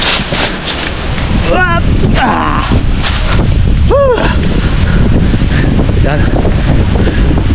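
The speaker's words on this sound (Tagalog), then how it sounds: "Mahangin." Strong wind buffets the microphone in a constant roar, with a voice briefly speaking and some higher whistling tones cutting through.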